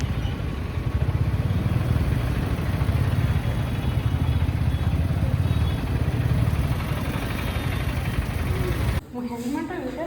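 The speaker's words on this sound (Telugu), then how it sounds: "అక్క వాళ్ళ పిల్లలకి తెలిసిపోయిందనమాట, బైక్ సౌండ్ వినేసి వచ్చేస్తున్నారు" A motorcycle engine runs steadily with a low rumbling drone and a slight clatter, fairly close and loud, then cuts off abruptly near the end, followed by brief quieter sounds.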